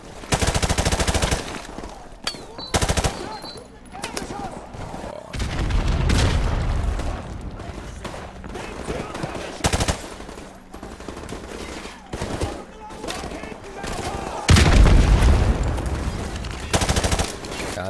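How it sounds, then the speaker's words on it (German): Rapid machine-gun bursts and heavy grenade explosions from Call of Duty Modern Warfare Remastered combat, loud and repeated in dense volleys with deep booms throughout. "Unnormal, wie viele Granaten die haben."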